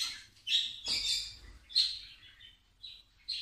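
Hand-raised lovebirds chirping close by: a handful of sharp, high chirps and short squawks in irregular bursts, with quiet pauses between them.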